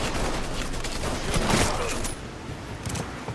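Firefight in the video game Mafia 3, with a dense spray of gunshots and shots from several weapons cracking together at close range over a steady noisy background, thinning out toward the end.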